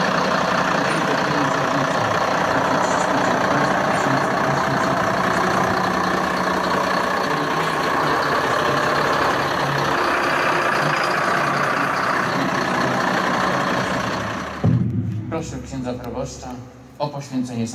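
A volunteer fire brigade's new fire engine rumbles steadily as it is driven out at a ceremony, heavy engine noise holding loud and constant before easing off, with scattered crowd voices near the end.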